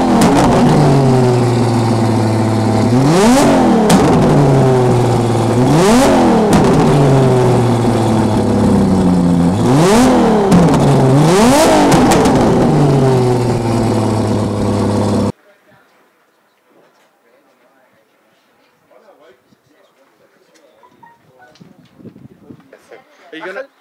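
A race car engine at a Tarlton Raceway test-and-tune session revs repeatedly, rising and falling in pitch in several loud surges, then cuts out abruptly, leaving faint scattered background noise.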